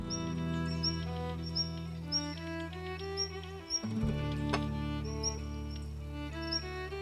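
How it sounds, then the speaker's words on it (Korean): Birds in quiet mountains sing short, high repeated chirps against a steady bed of sustained tonal music, moderately close and clear. "고요한 산중을 깨우는 새들의 노랫소리."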